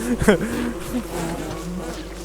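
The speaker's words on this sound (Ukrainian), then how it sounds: "О, бджоли вже з кимось розібрались" Bees buzz in the video game Don't Starve, a short burst of droning hum near the start that then settles into a quieter, wavering buzz.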